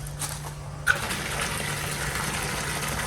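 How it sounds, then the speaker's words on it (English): Water bursts out as valves are opened while a Tempest unit is emptied and cleaned, a sudden rush that follows a small clunk and then keeps up a steady, broad gushing hiss. "Open the valves up, yeah."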